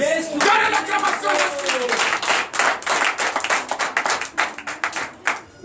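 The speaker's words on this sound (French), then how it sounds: "Donnez l'acclamation." Congregation clapping at a Sunday church service in Comè, Benin, a dense run of many hands slapping in loose rhythm, loud and close, with some voices underneath.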